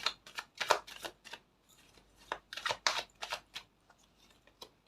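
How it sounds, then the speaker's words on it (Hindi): Tarot cards are shuffled by hand in quick crisp bursts of riffling and flicking, close and fairly quiet, with short gaps between each run of shuffling. "शफल करके लो"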